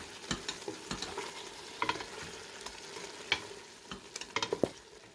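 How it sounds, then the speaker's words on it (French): Onion and minced chicken breast fry in a pan with a soft steady sizzle, broken by a series of scraping, clattering stirs that grow busier toward the end. "Là, on fait bien revenir jusqu'à ce que l'oignon fonde."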